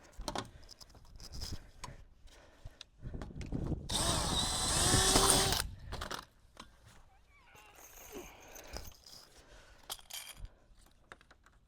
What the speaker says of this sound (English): Don't drill the rest of those holes yet